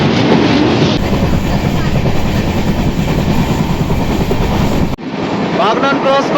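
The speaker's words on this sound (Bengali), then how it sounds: "একটা লোকাল ট্রেন যাচ্ছে।" A local train passes close by, heard from aboard another train, with loud continuous rumble and rhythmic clickety-clack of wheels, a sharp shift near the end as the noise changes character.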